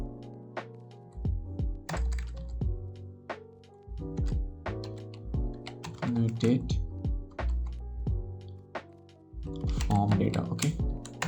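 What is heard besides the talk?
typing code on a computer keyboard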